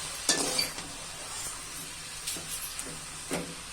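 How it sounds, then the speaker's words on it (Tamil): Palak spinach being stirred in a frying pan, with soft sizzling and a few scraping strokes at irregular intervals, fairly quiet and close. "கீரையை போட்டு நல்லா ஒரு கிளறி விடுங்க."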